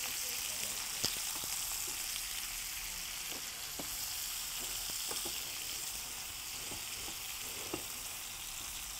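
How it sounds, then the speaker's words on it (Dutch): Steady sizzling of onions frying in a pan, a constant hiss with occasional small pops and crackles, close by and fairly loud. "De ui bakken tot hij een beetje bruinig is geworden"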